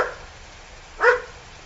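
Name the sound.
poodle mix dog barking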